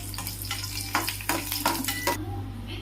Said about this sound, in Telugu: అందులోనే నెయ్యి వేసుకుని డ్రై ఫ్రూట్స్ వేయించుకోవాలండి